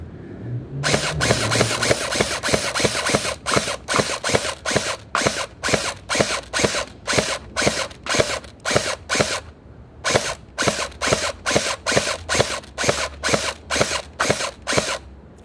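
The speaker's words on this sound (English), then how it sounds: "we'll try now with semi-auto" M4 Terminator V3 Viper gel blaster firing on semi-auto outdoors, a long run of sharp mechanical clacks at a quick, fairly even rhythm with one brief pause midway, close and loud with no talk.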